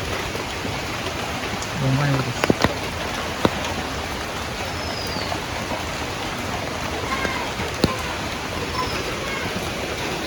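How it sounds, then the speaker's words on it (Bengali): Steady rain falls throughout, a dense even hiss with a few sharp drips and taps standing out, and a brief low voice-like sound early on. "এই যে দেখেন বৃষ্টি মনে হয় আজকে সারাদিন ছাড়বো না"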